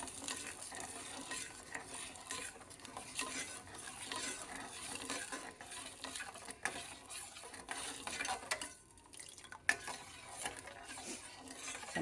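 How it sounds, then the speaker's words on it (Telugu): Sugar and milk being stirred in a pan until the sugar dissolves, a batch for mini biscuits: a quiet, continuous scraping and swishing of a spoon against the pan, with faint clinks, and no voices. "పంచదార కరిగే వరకు మనము కలుపుకోవాలన్నమాట."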